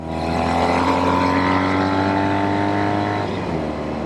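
A Norton Commando 850 Roadster motorcycle engine revving hard, a loud, sustained, rising engine note with strong harmonic drone that eases off slightly near the end.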